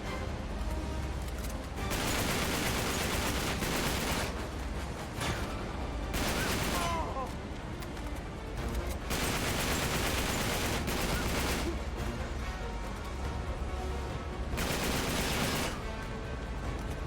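Enemy blind fire in Uncharted 3: repeated bursts of gunfire in several long volleys with short gaps, moderately loud, mixed with game noise and occasional voice.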